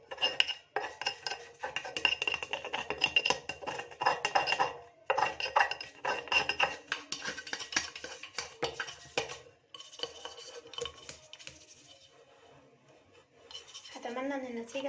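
The inside of a pot being scrubbed with a cleaning product, rapid close rasping scrubs in long bursts with brief pauses between them and faint clinks of metal.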